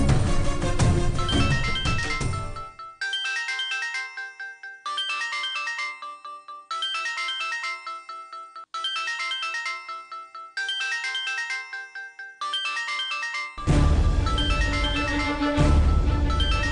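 A phone ringtone plays during an outgoing call, a repeating electronic melody in even bursts for about ten seconds, framed by louder background music at the start and end.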